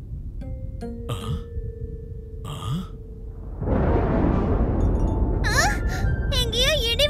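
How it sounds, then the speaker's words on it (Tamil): Thunder rumbles in a Tamil children's cartoon: a sudden loud, broad roar breaks in partway through and holds steady to the end, with brief cartoon voices and sound effects before it and bright chirpy effects layered over it. "எங்கேயோ இடி விழுந்திருக்கு போலமா."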